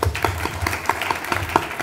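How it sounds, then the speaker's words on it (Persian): Audience applause welcoming the guest speakers at a panel talk, a dense patter of many hands clapping in a hall, moderately loud and sustained throughout. "با تشویق شما عزیزم"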